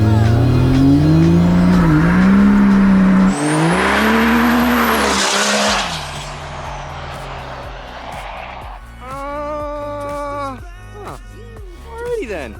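A tuned Duramax L5P diesel single-cab pickup truck accelerates hard with a loud, sustained engine roar and squealing tires, then the noise fades into a lower rumble.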